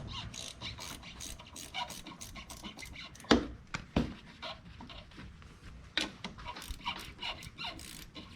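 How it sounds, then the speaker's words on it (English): A ratchet wrench loosening a 13 mm bolt on the front suspension of a 2002 Lincoln LS, making rapid close clicking strokes in bursts with a few louder clunks. "There's a bolt right here I'm gonna remove."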